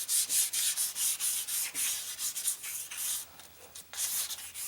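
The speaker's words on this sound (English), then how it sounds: "there's a couple little spots that I'm trying to fill in with sandpaper and this stuff" Sandpaper is rubbed by hand over a wood grip being finished with Waterlox, giving a close, soft, rhythmic scratching of quick back-and-forth strokes with small gaps, no voice.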